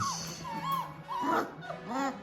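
Malinois puppies whimpering and yipping close by, a few short rising whines and squeaky yelps in quick succession.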